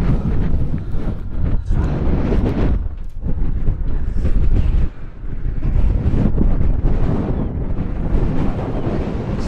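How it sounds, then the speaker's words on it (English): Strong wind roars across the microphone at the derelict Clarence Graving Docks in Liverpool, a dense, loud, continuous rumble with short gusting surges. "It's too windy, isn't it?"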